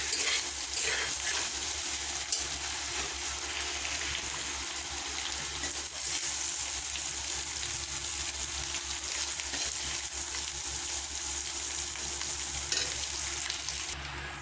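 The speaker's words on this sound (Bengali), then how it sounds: "আলু ভাজা যদি একটু ভালো করে ভেজে নেন তাহলে তরকারির কালারটা দারুণ আসে" Potatoes fry in hot oil in a home kitchen, giving a continuous, even sizzle and crackle that holds steady throughout, close and alone.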